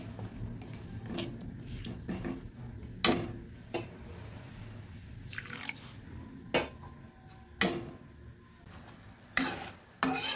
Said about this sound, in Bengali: গুড়টাকে হালকা একটু জল দিয়ে মেল করে নিচ্ছি।